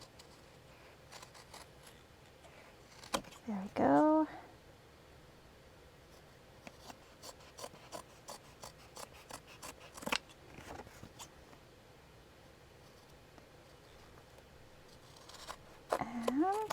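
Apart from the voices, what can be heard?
scissors cutting fabric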